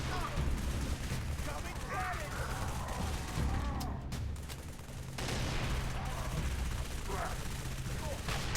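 Rapid SMG fire in Halo 3: ODST, a dense, continuous rattle of gunshots with brief gaps, set against loud battle noise and alien chatter.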